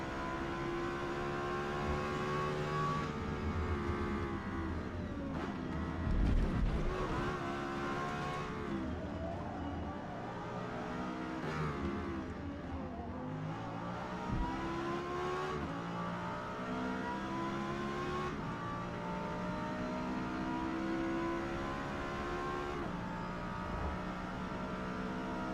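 Open-wheel race car engines, including a Formula Mazda and S class cars such as a Lexus LFA, scream around Silverstone in Forza Motorsport, with rising and falling revs and gear shifts, loud and sustained with no voices.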